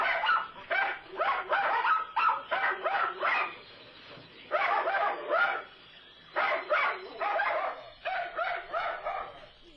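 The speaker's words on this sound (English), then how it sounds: "puppy chaos here at the Henry Rollins Heidi May podcast" Puppies in a podcast office bark and yip in rapid bursts, with whimpering between them. The bursts come close and fairly loud, separated by brief quiet gaps.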